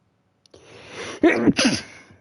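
A single person sneezes: a soft breathy intake builds, then a sharp burst and a second explosive release trail off into quiet, close and loud.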